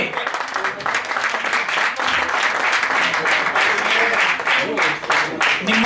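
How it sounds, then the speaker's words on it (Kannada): Steady audience applause at an honouring ceremony in an auditorium during an anniversary event, dense clapping lasting the whole stretch with slight swells. "ದಯವಿಟ್ಟು ಚಪ್ಪಾಳೆ ಬರಲಿ"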